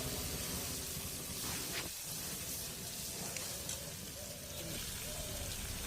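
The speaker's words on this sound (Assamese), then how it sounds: "এতিয়া আকৌ ভালদৰে লৰাই ভাজি থাকিম।" Pork and chopped potatoes stirred and fried in a pan, giving a steady, loud broadband sizzle with occasional scraping stir strokes throughout.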